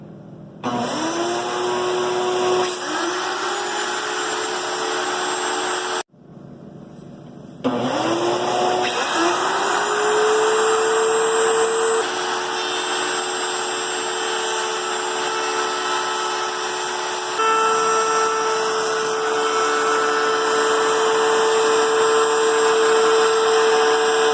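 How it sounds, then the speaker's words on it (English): A woodworking router spins up twice and cuts along a wooden edge, whining steadily for about twenty seconds, with a dust-collection vacuum system running loudly beneath it and no talking. "So I'm going to turn those systems on and go ahead and router an edge."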